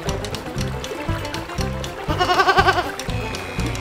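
Bighorn goats on a toy farm diorama let out a short wavering bleat over steady, thumping background music.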